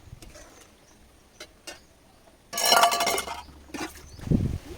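Ground garam masala paste being stirred into a pot of fish curry: a few light taps at first, then a burst of clinking metal spoon-on-pot scraping, followed by further scattered knocks and clinks.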